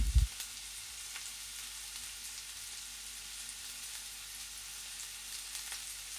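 Chopped onions sizzle in hot oil for masala khichdi as they turn pinkish, a steady, soft frying hiss that carries on unbroken after a brief knock at the start.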